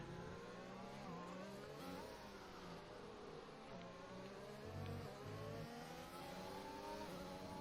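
Onboard engine of a Racing Point race car in a sim racing game at a Brazil round: a loud, continuous high-pitched engine whine that rises and falls through repeated gear shifts and revs, with no talking.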